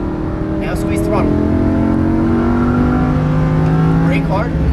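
A Lamborghini Huracan LP610-4 accelerates hard on a track, its loud engine note climbing in pitch and dropping through gear changes, with a voice talking faintly beneath.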